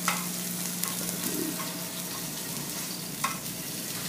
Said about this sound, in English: So to get this beef seared, we're going to sear it on all sides.